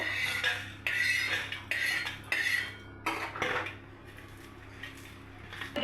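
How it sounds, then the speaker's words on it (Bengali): Homemade chili flakes being crushed by hand in a home kitchen, heard as bursts of scraping, grinding and clinking against a hard container, loud in clusters and then quieter. "চিলি ফ্লেক্সটা আমি হাতে বানিয়ে নিয়েছি এটা আমি গুঁড়ো করে নেব"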